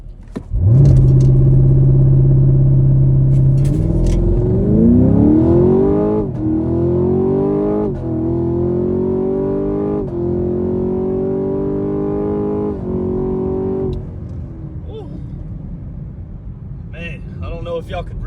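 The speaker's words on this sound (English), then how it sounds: "So you just mash the brake to the floor and then smash the gas, same as always." A 2022 Chevrolet Camaro 2SS 1LE V8 launches hard and accelerates through several upshifts, its loud, close engine note climbing and dropping with each gear change before easing off at the end.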